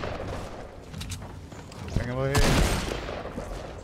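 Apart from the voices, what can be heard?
gunfire in the video game Fortnite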